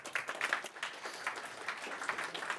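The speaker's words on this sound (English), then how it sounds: "So give them a round of applause." A conference audience claps for a sponsor, giving a brief, uneven round of applause with individual claps audible at moderate distance. No one speaks over it.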